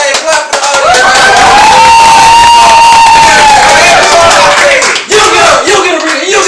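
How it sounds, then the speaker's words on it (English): A live audience at a psychic medium show claps, cheers and shouts, loud and close, with whooping voices rising above the clapping and a brief dip near the end. "Yeah, clap for the audience."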